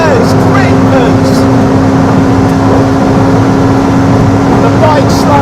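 A McLaren P1 and a Ducati 1199 Superleggera accelerating hard in a race, heard from inside a chasing car as a loud, continuous engine roar and rushing wind noise with a steady drone throughout.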